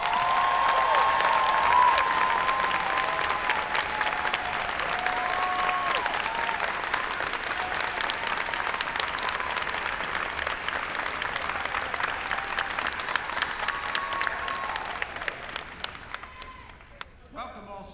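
A large audience at a college commencement applauds at length, a broad even clatter of clapping with a tonal hum beneath it early on, thinning and breaking into scattered claps as it fades.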